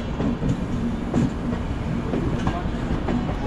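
Steady rolling rumble of the Howrah–Mumbai Duronto Express crossing what seems a high bridge, recorded from on board, with faint rhythmic wheel clicks running under the continuous roar.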